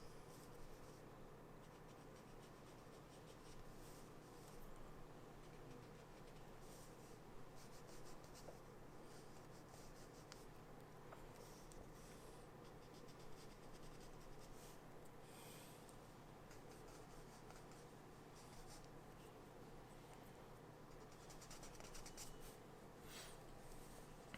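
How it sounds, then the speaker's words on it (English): An eraser rubs out pencil construction lines on a drawing of ears, making a soft, continuous scrubbing that stays quiet and close, with no talking. "I'm just going to go through and erase the kind of more construction-y lines"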